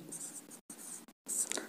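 Scratchy strokes of writing on a board during a physics lesson on potential difference, short bursts of scraping broken by two brief pauses, close and moderately loud.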